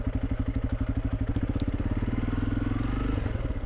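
Motorcycle ridden over a rough road in Cameroon, its engine thumping in a steady fast rhythm close up for the whole stretch, with rattles and clatter from the bumpy surface.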